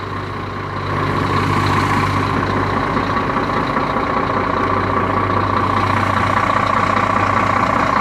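A KAMAZ truck's diesel engine settling into a loud, steady idle just after starting, rising in level within the first second and then holding a constant low rumble close by, with no talking.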